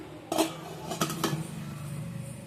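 A metal lid is set onto an idli steamer pot, giving a few quick close clanks and a light ringing scrape over a faint background hum.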